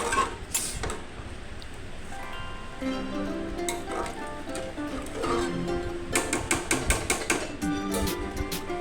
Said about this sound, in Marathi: कुकरचं झाकण लावलंय